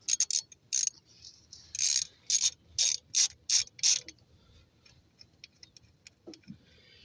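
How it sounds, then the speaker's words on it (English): A 3/8-inch ratchet with a 14 mm socket loosens the caliper bolts on a 2007 Chevy Cobalt, giving close, loud bursts of rapid clicking in a rhythmic series. The clicks stop about halfway through, leaving a few faint knocks. "get you a standard 14 mil on a 3/8 ratchet. Loosen those bolts."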